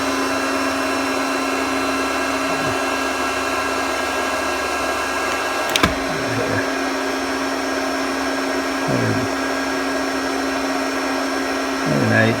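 A KKSEVENS magnetic induction heater runs with a steady electrical hum and high whine, holding constant for the whole stretch, with brief clicks and shifts in tone near the middle and end.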